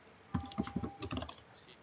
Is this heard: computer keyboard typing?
yes